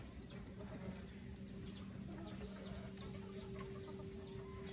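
A hen clucks in short, repeated bursts against a steady background hum, the calls fairly close and continuous throughout.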